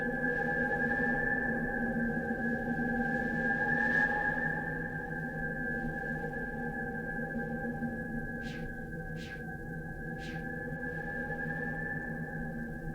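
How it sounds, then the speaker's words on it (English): In the video game Myst III: Exile, a steady, eerie tonal drone hums on and on from wind moaning through a hollow rock shape, with a few faint airy wisps drifting over it. "apparently wind going through that is creating that sound"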